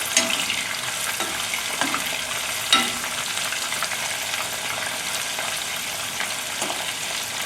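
Honey walnut shrimp fry in a pan with a loud, continuous sizzle while being stirred, with a few clinks of the utensil against the pan.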